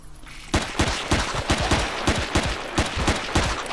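Rapid gunfire in the Empyrion video game, fired at an aggressive dinosaur; a steady stream of loud, evenly spaced shots lasting several seconds, starting after a brief quiet moment, with no talk.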